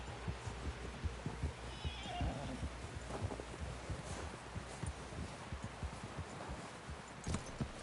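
A horse in the Red Dead Redemption 2 video game neighs while its hooves clop steadily and closely, with faint rustling in the background.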